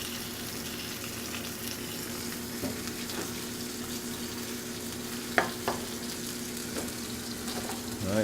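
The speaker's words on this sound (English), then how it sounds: "I'm going to saute the asparagus with the salmon" Salmon and asparagus sauté in vegetable oil, giving a steady, close sizzle throughout with a few sharp clicks and taps of a utensil against the pan.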